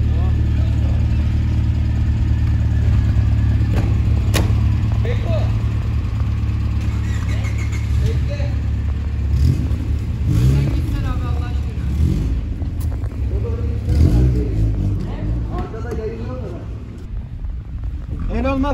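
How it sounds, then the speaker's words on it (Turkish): A car engine at an auto repair shop in İzmir idles loudly and revs, with crackling exhaust pops toward the end, while people talk nearby. "egzoz patlat da çekeyim."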